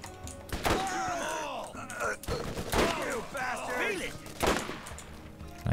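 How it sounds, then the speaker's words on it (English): Sniper rifle fire in the Borderlands shooter game, several sharp gunshots with ringing tails spaced a second or so apart amid in-game effects and creature cries. "Let's get some criticals with the sniper as well."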